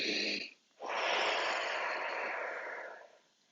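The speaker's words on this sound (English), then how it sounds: "Just a couple of deep breaths here" Deep breathing in a beginners' yoga class: a short exhale, a brief pause, then one long, steady, airy breath, close and clear with no talking.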